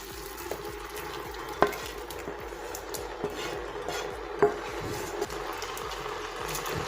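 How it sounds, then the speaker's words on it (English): A spoon stirring cooked beans with fried tomatoes and peppers in a pot, soft repeated scrapes and a few light clinks against the metal over a low steady background, close and fairly quiet. "Then you stir it."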